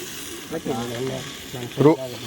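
Oil sizzling on a tava while fish fries, a close crackle with louder bursts, under a faint voice speaking briefly.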